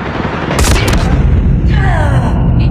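A Predator missile strike in the mobile shooter Call of Duty Mobile lands with a loud, heavy boom amid steady gunfire and battle noise, followed by a falling whistle-like tone.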